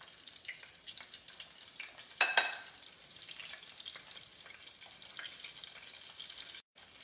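Gluten-free chicken nuggets frying in oil: a faint, steady bubbling sizzle with one brief louder crackling burst early on, heard alone.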